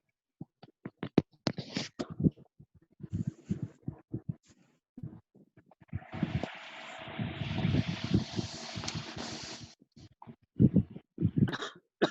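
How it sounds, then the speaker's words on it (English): Several short, sharp coughs scattered across the clip, some in quick clusters, with a stretch of steady hissing noise in the middle. "Who is coughing?"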